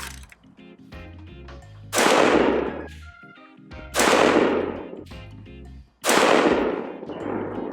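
Three loud, sharp gunshots sound about two seconds apart from a BCM 11.5-inch AR-15 pistol firing Federal Gold Medal Berger 73-grain .223 open tip match ammunition outdoors. Each crack has a ringing decay, with light metallic handling noises between the shots.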